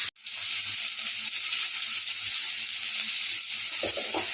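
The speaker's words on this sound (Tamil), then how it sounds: "வெங்காயம் தக்காளி எல்லாம் ஒன்றா நல்லா வதங்கி வந்துருச்சு" Onions and tomatoes with a little turmeric fry in a pan for a village-style eggplant stir-fry, giving a loud, steady hiss of sizzling that starts after a sharp clack, with brief stirring sounds near the end.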